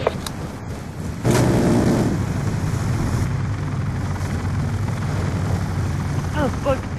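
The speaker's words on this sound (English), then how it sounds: "How the fuck did he get past my fucking plane?" Aircraft roaring overhead in a first-person military shooter, a loud sustained rotor-like drone filling the scene with game noise and someone talking over it.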